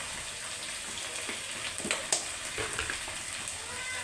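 Ginger and garlic paste with spices sizzles in hot oil while being sautéed for an egg and potato curry, a steady, fairly soft crackling fry with a few stirring scrapes.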